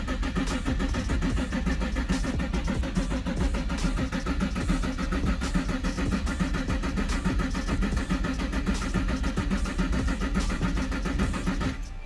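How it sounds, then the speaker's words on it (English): A Nissan 350Z with a VQ35 engine cranks over steadily without firing, clutch and throttle held down to prime oil, giving a continuous rhythmic starter churn for about twelve seconds, close and loud, with no talk. "we hold the clutch and the gas pedal down at the same time, and then we just crank it"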